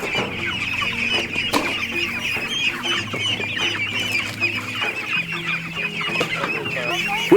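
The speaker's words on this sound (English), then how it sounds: "Which includes moving chickens." Chickens on a homestead cluck and chatter steadily as they are moved, a dense overlapping flock close by, with a sharp knock or two of handling.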